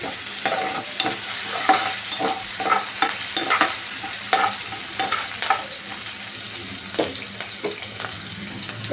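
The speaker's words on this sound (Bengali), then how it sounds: "ফ্রাই করে নিচ্ছি একটু" Ingredients for a spinach bharta fry in a pan, a loud continuous sizzle with frequent stirring scrapes and clinks throughout.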